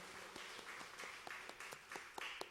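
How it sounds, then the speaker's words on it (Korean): A church congregation claps in a Sunday service, a quick steady run of hand claps, fairly faint and somewhat distant, continuing alone without speech. "우리 하나님께 영광의 박수로 찬송을 드립니다."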